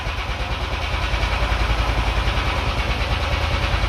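A dune buggy engine running in second gear on a first test ride, a loud, steady throbbing drone with a rough pulsing beat held at nearly constant revs.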